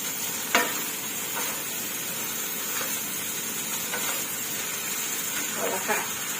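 Pad Thai noodles with fresh shrimp and chicken tossed in a hot pan with chopsticks, a steady close sizzle and hiss broken by occasional soft scrapes and clacks, with someone talking over it.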